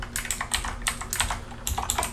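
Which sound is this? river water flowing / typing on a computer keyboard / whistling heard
typing on a computer keyboard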